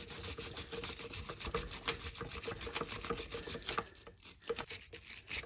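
Scrubbing and rubbing on the pad seats of a Citroen C3 Picasso rear brake caliper, a steady rasping brush-on-metal scrape in quick repeated strokes, close and moderately loud, pausing briefly near the end.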